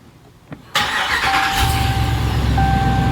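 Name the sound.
truck engine starting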